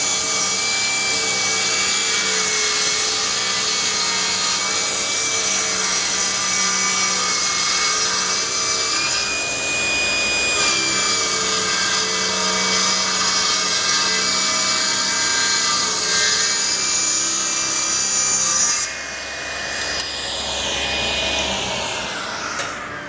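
A machine cuts a workpiece in a steady, continuous grind with a whining tonal hum. The noise holds loud and unbroken throughout, with a change in character near the end and no speech.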